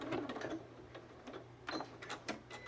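A sewing machine backstitching through a quilted, self-binding table cloth, quiet rapid mechanical ticking in short stitching bursts with brief pauses between, fairly close but low in level.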